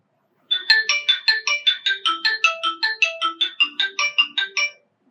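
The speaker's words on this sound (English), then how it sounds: "your smartphone will start ringing" A melodic electronic smartphone ringtone, triggered from a Xiaomi Smart Band 10, repeats a short rising phrase about fifteen times in a steady rhythm, loud and clear with no other sounds.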